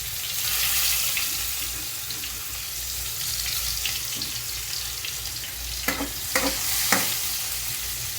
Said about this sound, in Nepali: अब यो फोरन र तेल पाकिसक्यो, यसमा हाले अदुवा, लसुन